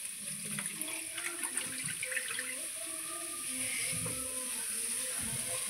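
Water being poured off soaked rice, a quiet, steady trickling and splashing of liquid with faint clinks, running continuously at low level.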